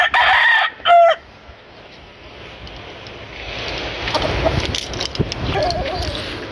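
A bloodline gamecock bull stag lets out a couple of short, loud crows close by, followed by quieter rustling and background farmyard noise.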